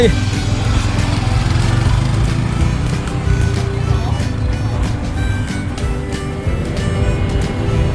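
A Honda CT125 motorcycle pulling away slowly in first gear gives a steady low engine drone close by, while people talk over it throughout.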